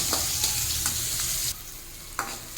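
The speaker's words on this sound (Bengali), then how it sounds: "হাই ফ্লেমে মুচমুচে করে ভেজে নিয়েছি" Oil sizzles loudly and steadily as vegetables deep fry on a high flame, with a few scraping stirs before the sizzle suddenly drops to a softer hiss.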